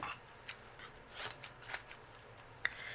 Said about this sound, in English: So we'll cut out our little bunny.